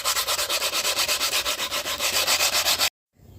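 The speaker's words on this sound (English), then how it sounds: "I sanded it with some fine grit sandpaper" A sanding block with fine grit sandpaper rubs back and forth across a workpiece in quick, even strokes, loud and close, then stops abruptly, leaving near silence.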